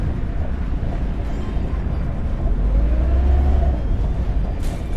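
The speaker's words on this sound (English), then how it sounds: "That's a car." A car-like engine rumble plays for a helicopter in a modern city-builder game, a steady low drone that swells slightly mid-way with a faint rising whine and then settles again.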